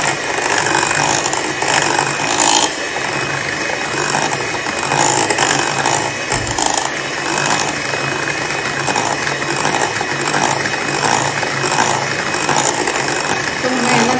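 An electric mixer beats eggs into a banana walnut cake batter, a loud, steady whirring and rattling from close by that runs without a break and has no speech over it.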